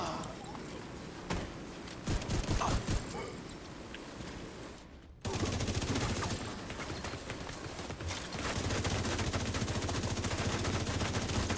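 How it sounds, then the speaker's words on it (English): Minigun firing in a video game, rapid rattling bursts, sparse early on, then a sustained loud stream of fire with dense rhythmic shots, near and prominent with game voices underneath. "gunner on a minigun."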